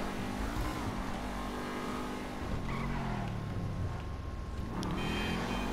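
A Dewbauchee Seven 70 sports car in a video game revs steadily with a droning engine and squealing tyres as it skids and slides, loud and continuous for the whole stretch, with no talking.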